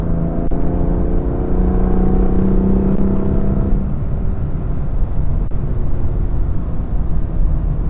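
BMW M2 CS engine pulling hard out of a turn, a steady, loud in-car drone with rising harmonic tones for the first half before settling into a broader, rougher rumble.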